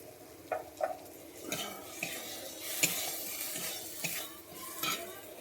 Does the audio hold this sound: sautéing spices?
yes